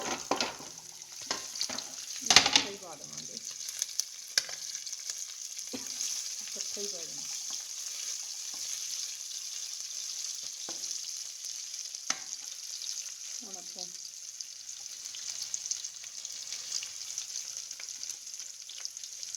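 Green chili and onion tempering for a turnip sabzi fries steadily in a pan. A continuous bright sizzle is broken by occasional stirring clatters and one sharp knock early on, with no talking.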